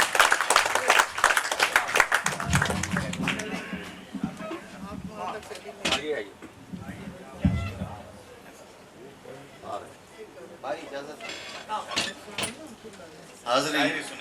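An audience at a poetry gathering claps and applauds for a poet in uneven bursts, mixed with someone speaking over it and some clattering.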